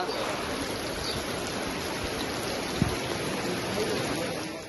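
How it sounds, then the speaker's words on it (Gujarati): Heavy cloudburst rain hisses steadily with the broad rush of flowing water beneath it in a Gujarat village, constant and close, with no voices. "ધોધમાર વરસાદ વરસી રહ્યો છે"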